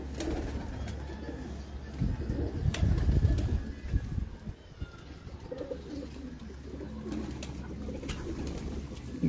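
Pigeons, highflyer and breeder birds kept in a loft in the UAE, coo in low, soft, repeated throaty calls. The cooing carries on steadily across the whole stretch against a constant low hum, with no talk over it.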